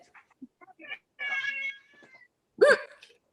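A fat pet cat named Spaghetti Whiskers gives two or three loud, close meows in quick succession, with softer whining cries between, while people talk nearby.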